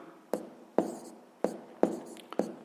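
A math exercise is written by hand, with faint, close scratchy pen strokes in short separate bursts, about five of them across a quiet background.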